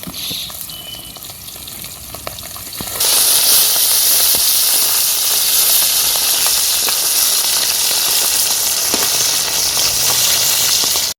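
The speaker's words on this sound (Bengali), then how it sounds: "বাটার মাছটা ভেজে, আমরা আবার যে কোনো মাছ ভেজেই রান্না করি" Bata fish frying in hot oil, a steady loud sizzle and hiss that jumps sharply in intensity after the first few seconds and continues unbroken, with faint crackles scattered through it.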